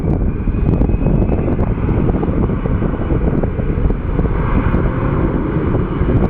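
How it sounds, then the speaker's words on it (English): A jet airliner rolls down the runway on its takeoff roll at Phoenix Sky Harbor airport, a loud, steady broadband engine roar with wind buffeting, continuous and close throughout, with no talk. "here comes our Atlanta bound flight as it's taking off on its takeoff roll"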